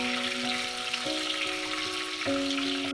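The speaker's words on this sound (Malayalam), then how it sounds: "ഇനി നമുക്ക് ഇതിലേക്ക് കിസ്മിസ് ഇട്ട് ഫ്രൈ ചെയ്തെടുക്കാം." Raisins fry in a pan for cherupayar payasam with a steady, close sizzle that continues throughout, and faint sustained tones sound behind it.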